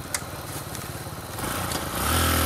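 A motorcycle engine runs close by with a rough, throbbing idle, then revs up and grows louder toward the end.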